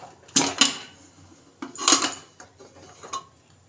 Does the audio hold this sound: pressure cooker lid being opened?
yes